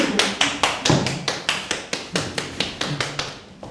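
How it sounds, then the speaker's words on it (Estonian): Steady rhythmic clapping for Mr. Kurberg at a stage play, about a dozen sharp, evenly spaced claps at moderate volume with no talking. "teeme veel kord härra Kurbergile aplausi."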